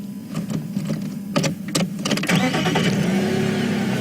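A safari vehicle's engine is started on a morning lion-viewing drive, a few clicks and cranks followed by a steady mid-pitched idle that rises and holds, close and fairly loud with no talk.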